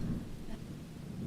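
A thunderstorm rolls in a horror film scene as a low, continuous thunder rumble with rain hiss beneath it, moderately loud and steady throughout.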